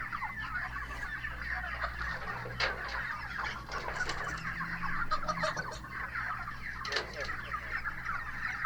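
A flock of broiler chickens is being sorted into cages. Their soft clucking and murmuring stays steady and fairly faint, with occasional sharper calls and scuffles and no talking.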